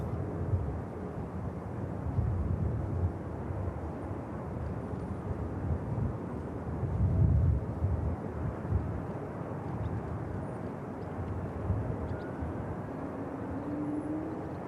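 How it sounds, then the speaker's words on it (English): A Ryanair airliner bound for Dublin taxis toward the active runway at Manchester Airport, a steady low engine rumble that swells briefly near the middle, with wind noise and no talk. "There's the Ryanair for Dublin,"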